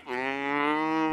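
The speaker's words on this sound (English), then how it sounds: "Chasing cows in the rugged mountains of Idaho." A single cow moos close and loud, one sustained low, harmonic-rich bellow on a ranch in the rugged mountains of Rexburg, Idaho.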